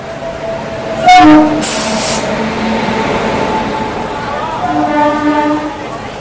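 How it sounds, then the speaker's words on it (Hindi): The Puri–Rourkela Express pulls into platform 2 at Cuttack station in heavy rain, with rumbling wagons, a short burst of air or brake hiss and sustained horn tones near the start and again toward the end, loud and close. "यहाँ पे पूरी राउरकेला एक्सप्रेस आ चुकी है इसके प्लेटफॉर्म नंबर 2 पे"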